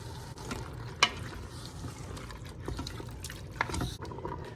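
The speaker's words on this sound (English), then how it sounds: "I have a 28-ounce can of diced tomatoes and juice, and I'm going to put the whole thing in here" Canned diced tomatoes with their juice slide and slosh into an Instant Pot, soft wet glugs and splats with a few sharper clinks against the pot.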